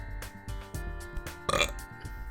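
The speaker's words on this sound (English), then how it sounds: "I need a burp." A drawn-out burp rumbles low and close, broken into a few gulping pulses with a louder swell near the middle, set against a faint background hum and no other voices.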